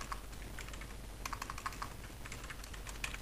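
Faint, quick keystrokes on a computer keyboard as a file name is typed, irregular clicks in small clusters over a quiet background.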